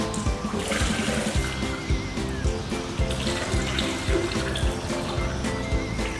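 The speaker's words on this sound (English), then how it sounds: "They can explore through pouring and watching the water flow into the big, bright coloured buckets." Water pours and splashes steadily through pipes, tubes and jugs into buckets at a school water wall, a continuous loud flow with rhythmic gurgling and no voices.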